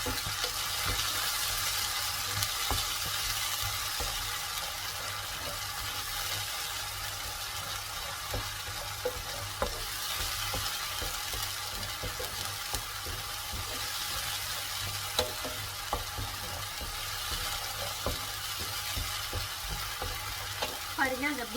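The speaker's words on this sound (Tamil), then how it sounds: "இந்த வெங்காயத்துடைய வாசம் போகிற வரைக்கும் நல்லா நம்ம எண்ணெயில் வதக்கி எடுத்துக்கிறோம்" Onions sauté in oil in a pan for a paneer gravy, giving a continuous close hiss of sizzling broken by small clicks and scrapes of stirring, with no voices.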